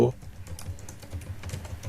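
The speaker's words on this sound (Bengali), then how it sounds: "সার্চ বক্সে টাইপ করব" Rapid clicks come from a computer keyboard while a search box entry is typed. The irregular keystrokes are close and fairly quiet, and a brief voice is heard at the very start.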